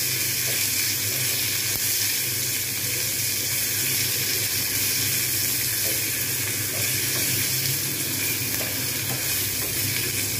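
Curry leaves fry in hot oil while being stirred, making a loud, dense, continuous sizzle with constant crackle close up and no pauses or talking.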